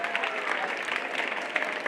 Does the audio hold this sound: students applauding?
yes